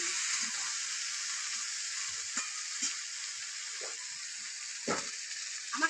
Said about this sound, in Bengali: আমি আলু কচুটা ভালো করে ভেজে নেব